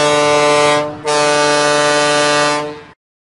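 Loud, sustained horn blasts from toy fire engines in a Curious George video game, one long blare briefly cut off near the start before resuming and fading out, with no talking.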